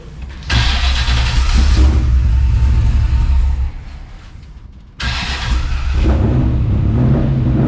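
A Travelall wagon with a swapped LS V8 revs hard on its first test drive, a loud, close engine roar that surges, dips briefly, then climbs again.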